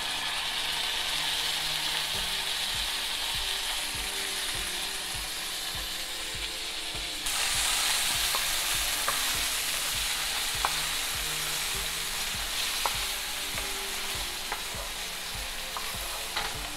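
Chopped fresh tomato sizzles steadily in a pan with sautéed onions for red lentil dal, a constant close frying hiss with occasional stirring scrapes and faint clicks.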